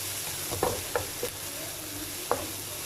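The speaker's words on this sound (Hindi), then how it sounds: "थोड़ा सा इसको फ्राई करूँगी" Garlic and ginger paste with salt and dry chili powder fries in a pan, a close continuous sizzle broken by a few sharp scraping stirs.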